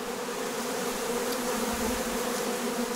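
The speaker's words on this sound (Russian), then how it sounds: "И пчела вот так выкучилась." Carniolan and Buckfast honey bees buzz steadily at a hive in a migratory apiary, a dense continuous drone that stays loud and close throughout, with no talking.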